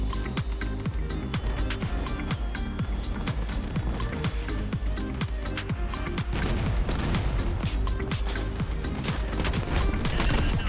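Machine guns firing in the vehicle combat game Crossout, a dense, continuous stream of rapid shots with heavy low thuds, loud and steady throughout with no pauses.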